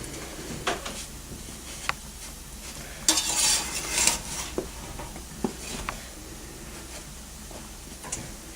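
Pieces of food in a hot sizzling pan turned over with a spatula, a low steady fry broken by a few sharp scrapes and taps, close by with no talk.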